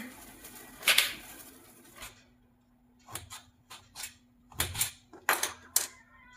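A knife cuts through raw papaya on a board, giving sharp, irregular clicks and taps. Some strikes are crisp and close, others fainter, with short quiet gaps between bursts.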